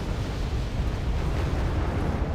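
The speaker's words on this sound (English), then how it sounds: "Oh, getting artillery already." Rocket artillery barrage in the war strategy game Wargame Red Dragon, a loud, dense, continuous rumbling roar of overlapping blasts with no pauses.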